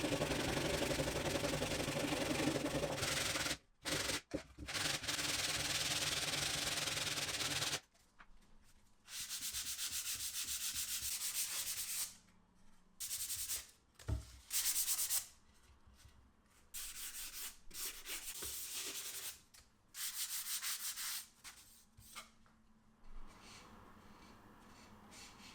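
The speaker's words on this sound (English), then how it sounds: "I spend a few hours sanding down the enclosure to reveal the smooth plywood layers." Continuous rough sanding of a plywood speaker enclosure in long passes, stopping and starting in bursts with short quiet gaps, close up with no talking.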